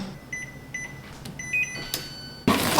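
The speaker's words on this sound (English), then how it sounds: "Now preheat the air fryer at 400 degrees Fahrenheit for about 4 minutes" Air fryer control panel being set to preheat at 400 degrees Fahrenheit, sounding a series of short electronic beeps and tones in a quiet kitchen, followed by the fan and heater starting with a loud, steady whoosh.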